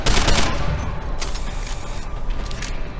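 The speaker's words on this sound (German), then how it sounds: "So können wir schießen." Rapid gunfire bursts from a firefight in the first-person action game Deus Ex, loud and dense at the start, then continuing as scattered shots and impacts throughout.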